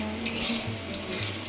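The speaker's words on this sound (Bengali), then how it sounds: "আর এদিকে দিয়ে দিয়েছি তেল গরম হতে" Cooking oil warming in a pan for chicken kosha, giving a steady soft sizzling hiss at close range, with faint low hum beneath and no talking.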